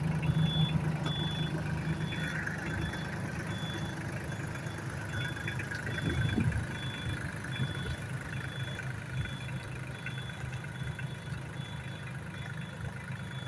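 A 24 hp Solis tractor by Sonalika drives in a slow tractor race, its engine a steady, even drone throughout with a faint high beeping tone over it, no talk.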